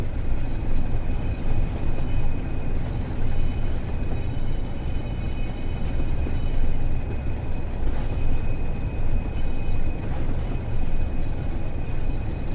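Train departing in Train Sim World 4, a steady loud rumble of rolling stock with a faint high whine running throughout, no voices.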